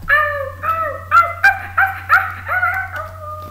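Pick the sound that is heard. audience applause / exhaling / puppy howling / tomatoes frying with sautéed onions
puppy howling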